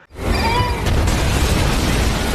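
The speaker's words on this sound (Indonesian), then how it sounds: "lalu pergi disambung meledakkan rumah si jaksa korup itu" A house blows up in a film scene, a single loud, full explosion that bursts in almost at once and keeps rumbling with debris for a couple of seconds, with no talk over it.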